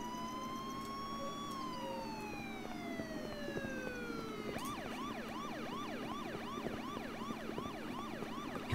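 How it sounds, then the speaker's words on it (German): A police siren in the video game Miscreated sweeps downward in a long wail, then switches to a rapid repeating yelp, steady and fairly faint over background hum, with no talking. "Keine Ahnung, wie man die blöde Sirene von der Polizei macht."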